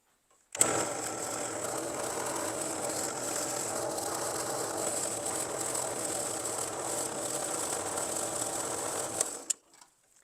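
Engine turning a swirl pattern onto metal with a rotary abrasive tool pressed down for several seconds, a steady buzzing mechanical whir that starts abruptly, holds evenly, then cuts off, close and alone.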